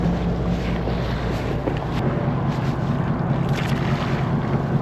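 A fishing boat out at sea for octopus shifts forward and back under engine power, giving a steady low mechanical drone mixed with wind buffeting and faint water wash, with no talking.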